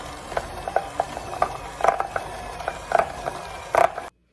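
Brown sugar and white sugar being mixed together in a bowl for M&M cookie dough, giving a gritty scraping and stirring sound with a steady run of soft strokes and a few louder scrapes, close up with no talking.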